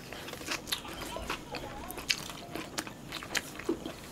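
Crunchy bites and chewing of North Korean tofu rice dipped in sauce, a string of close, crisp bites and soft mouth sounds over a quiet room.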